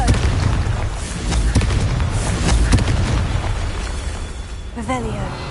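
Confringo blasting spell explosion in a Harry Potter video game: a loud, dense, rumbling blast filling the whole clip with layered bursts, and a voice briefly at the end.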